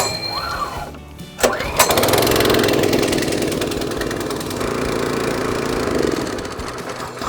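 The new petrol engine of a Cobra S40C scarifier is pull-started with a rattle of the recoil cord, catches, and settles into a steady, loud, close running drone that continues to the end.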